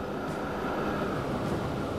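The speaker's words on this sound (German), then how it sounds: "Und da kommt auch schon wieder ein Zug entgegen." A train rumbling past in Transport Fever, a dense steady roar of rolling wheels close by, continuous and loud for a couple of seconds with no talk.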